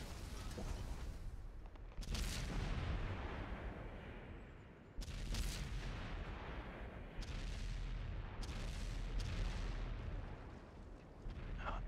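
Tank cannon shots in a competitive World of Tanks-style match involving tanks such as an E100 and T57s: loud booming reports every few seconds over continuous engine rumble and battle noise.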